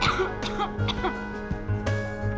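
Someone coughs into their wrist in a short burst of several quick coughs, close and fairly clear, with a little voiced throat noise between them.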